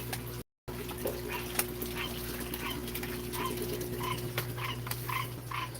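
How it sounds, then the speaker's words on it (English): A small dog barks and whimpers repeatedly at a distance, in short rhythmic yips over a steady background hum. "I hear a puppy dog barking."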